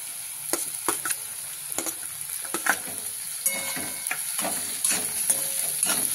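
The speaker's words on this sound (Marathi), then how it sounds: "आता आपण टोमॅटो टाकणार आहोत त्यामध्ये।" Onions and tomatoes fry in a pan, sizzling steadily close by while a utensil scrapes and stirs through them in repeated short strokes, with no talking.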